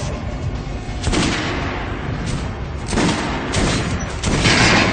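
Rapid, loud gunfire from the video game Metro: Last Light Redux fills the clip, with heavy repeated bursts and booming reports in several clusters and no talking.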